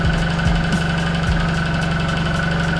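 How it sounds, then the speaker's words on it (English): A Suzuki Burgman 650 Executive scooter engine idles steadily up close, a smooth rapid putter with a faint ticking, no voices. "That thing's idling better now."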